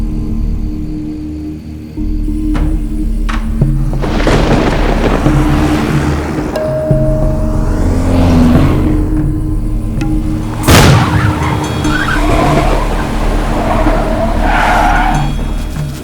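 A car tyre bursts on nails scattered on the road and the car skids, in a Tamil film scene: a long scraping skid with a sharp burst midway, loud and continuous throughout.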